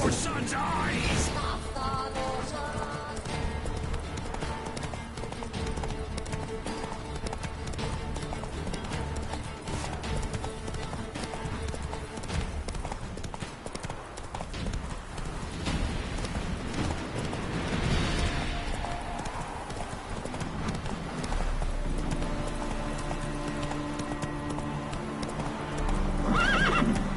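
Horse galloping with rapid clip-clop hoofbeats and loud neighs in The Witcher 3, continuous and close, with game music and effects throughout.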